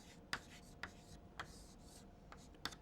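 Writing on a board, short sharp scratchy strokes in a few separate bursts, close and fairly quiet, with no talk.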